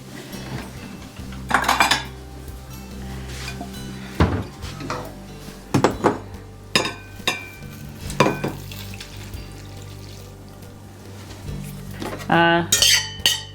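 Kitchen clatter of food going into a big bowl: a series of sharp clinks and scrapes of utensils against dishes, close and moderately loud, with a brief rattling burst near the end and quiet gaps between.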